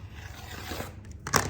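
Fabric trimmed along a ruler edge: a soft, steady scraping cut that ends in a brief, louder rasp of the blade finishing the slice, close and with no talk.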